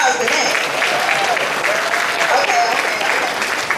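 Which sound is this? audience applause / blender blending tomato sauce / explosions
audience applause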